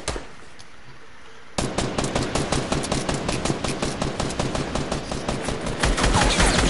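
Rapid automatic gunfire in the video game Fortnite, a dense rhythmic burst of loud shots starting abruptly after a short quiet moment and continuing steadily to the end, with no talk.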